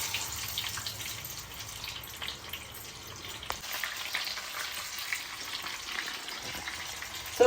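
Sweet corn coated in batter fries gently in oil that is not too hot, with a soft, even crackle and faint scattered pops going on quietly throughout.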